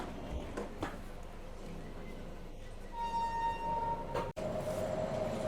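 Padmavathi Express train running past Cherlapalli, a steady moderate rumble of wheels and carriage with a long tonal squeal or whistle rising midway and continuing to the end.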